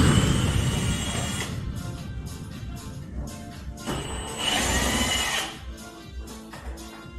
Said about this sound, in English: Now we have to unscrew all these bolts which are surrounding the tank